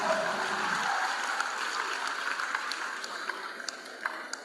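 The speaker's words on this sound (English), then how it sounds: "The round of applause once again for our guest lecturer." Audience applause at a university matriculation ceremony and commencement lecture, a broad sustained patter of many hands clapping that holds steady at moderate volume throughout, with no talk over it.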